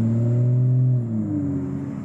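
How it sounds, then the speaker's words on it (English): A BMW F30 with an N55 engine, tuned to stage 2+, hums along at low speed while warming up, its engine drone steady and then easing slightly as it shifts, heard from inside with no talking. "I'm going to go take it for a small drive while I let it warm up, and then we'll see how the car runs"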